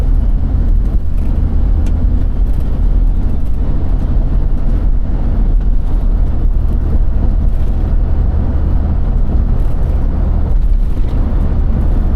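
A car driving along a service drive beside a freeway in Greece, with a steady, loud low rumble of engine and road noise that continues throughout without breaks.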